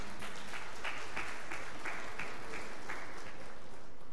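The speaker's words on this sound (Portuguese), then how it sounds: "Essas palmas aí é para você saber o quanto você é bem-vindo aqui." Applause from a church congregation during a Sunday service, a steady, even wash of many hands clapping that holds for the whole stretch with no voices standing out.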